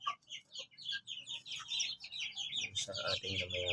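Young shamo chickens, about three months old, cluck and chirp in a backyard. The calls come close, busy and overlapping, and continue steadily throughout.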